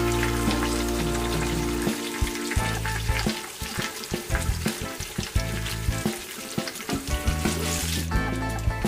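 Karimeen (pearl spot fish) on its second round of frying in a pan, a dense, steady sizzle with crackling spatters throughout and no voices.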